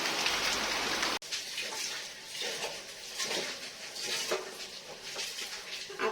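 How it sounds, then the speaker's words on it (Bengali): Heavy rain pours down outside a home, a steady dense hiss of falling water with scattered patters and drips, broken by one sharp click near the start; no voices are heard. "এই দেখো কত বৃষ্টি এই দেখো কি বৃষ্টি আরো জোরে আসলো মনে হয়"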